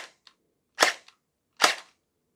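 A Gel Blaster Surge pistol fires in single-fire mode. There are two sharp, close pops less than a second apart, with faint mechanical clicks between them.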